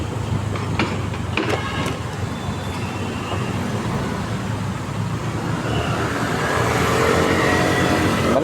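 Steady road traffic rumbles through Bonifacio Global City around one in the afternoon, cars idling and passing close by in a continuous, dense hum that swells slightly toward the end, with no talking.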